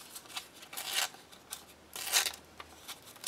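Paper torn by hand over a garbage can in an art journaling session, a few close, crisp ripping strokes in short bursts separated by brief pauses, quiet and with no talking.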